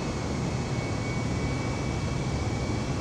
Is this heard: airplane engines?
yes